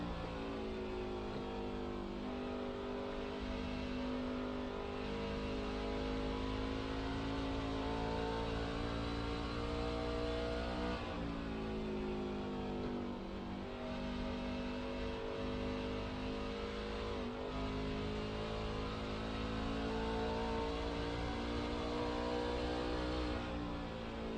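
Race cars roar around a track during a Friday night race in Iowa, a steady loud engine drone with rising and falling pitch as cars accelerate and pass, continuous for the whole stretch with no voices.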